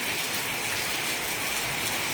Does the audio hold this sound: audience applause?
no